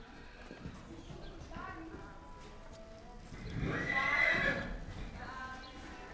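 Horses, a mare and her foal at an Icelandic horse foal assessment, neigh and whinny with hooves clip-clopping, one loud whinny standing out near the middle over steady outdoor background.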